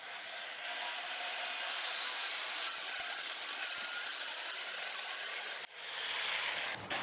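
80 grit sandpaper rubs against a Siberian elm pedestal bowl spinning on a wood lathe, making a steady, close, broadband scratching hiss with a brief dip near the end.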